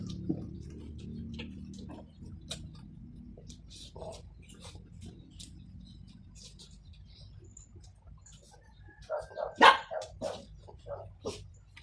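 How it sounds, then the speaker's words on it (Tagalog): A dog barks a few times, fairly close, with a louder cluster of sharp barks near the end against a quiet background. "Tumatahol ka rin."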